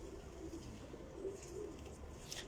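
A pet pigeon (a favourite female racing pigeon) gives soft, low cooing in a quiet loft setting, faint and murmuring with a few brief higher chirps toward the end, no voices.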